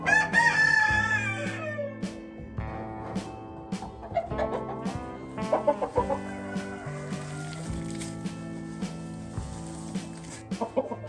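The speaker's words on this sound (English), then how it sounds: "And he's a beautiful rooster." A rooster clucks repeatedly in a chicken coop, with close, loud, irregular clucks and calls, alongside clattering and shuffling sounds through the whole clip.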